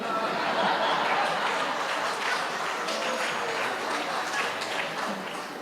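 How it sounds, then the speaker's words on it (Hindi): An audience at a Hindi spiritual talk claps in a dense, continuous wash of applause, steady and loud throughout, with faint chuckles and murmurs mixed in. "इधर से तालियां ज्यादा आई हैं।"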